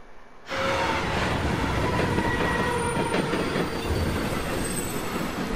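Steady, loud rumble and rattle of a moving train in the video game Beyond: Two Souls, beginning abruptly after a brief quiet moment and carrying on continuously with faint wheel squeal above the roar.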